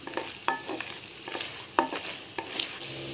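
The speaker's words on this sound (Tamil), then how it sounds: "துவரம்பருப்பு, வேர்க்கடல இது மூணையும் போட்டு நல்லா கொஞ்சம் நேரம் வறுத்துக்கணும்" Cumin, split dals and peanuts dry-roasting in a pan for semiya upma, quiet rattling and scraping as a spatula stirs them in short irregular strokes, faint sizzle underneath.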